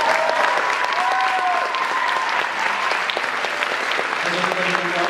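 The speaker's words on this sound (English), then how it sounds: "Can I get a round of applause for the crew running the show?" A Teen Titans Go! convention panel audience in Dallas claps steadily and loudly for the full stretch, a dense even wash of hands with a few voices and cheers mixed in.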